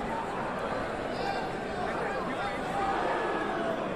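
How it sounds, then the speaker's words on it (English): Boxing arena crowd during a Librado Andrade versus Rowland Bryant bout, a steady distant roar and murmur of spectators reacting to punches, with a commentator talking over it. "You can hear the crowd here reacting"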